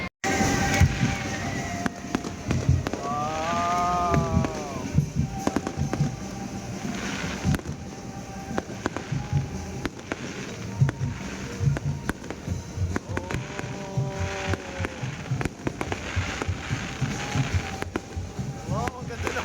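Fireworks at a town fiesta crackle and pop in scattered bursts amid a noisy outdoor crowd, with people talking and exclaiming throughout and some wind rumble against the microphone.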